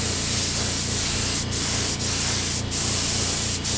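Spray gun laying thin metallic pearl paint onto Suzuki GSX-R 1000 track bodywork: a loud, continuous close hiss with brief dips where the trigger pauses.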